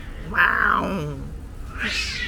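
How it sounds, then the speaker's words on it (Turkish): Cats yowling loudly on Büyükada island, a long wavering cry followed by a second rising howl, close by. "Arkada kediler bağırıyor."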